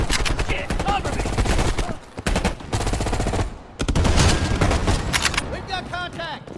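Rapid automatic gunfire and bursts of shots in the video game Call of Duty Black Ops Cold War, loud and close, broken by short pauses, with voices calling out in places.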